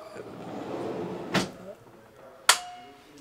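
A heavy-duty metal pull-out drawer on a soft-close runner in a Mercedes-based Notin Calgary Evolution motorhome slides with a muffled rumble, then closes with two sharp knocks, the second louder.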